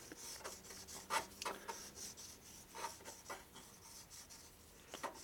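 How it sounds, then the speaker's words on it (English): Steel being burnished by hand, rubbed with firm pressure across its surface on a steel workbench during a nitrous oxide transfer pump rebuild, giving soft repeated rasping strokes, faint and close with no talk. "This is burnishing."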